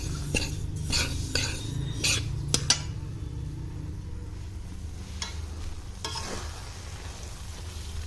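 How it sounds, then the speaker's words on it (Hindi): Sesame seeds and mawa roasting over a high gas flame, each stirred with its own ladle, giving a steady low frying hiss broken by several sharp scraping clinks of metal on the pan. "मावा भी भून रहा है और तिल भी भून रहा है। दोनों में 2 कड़छियाँ चल रही हैं एक साथ।"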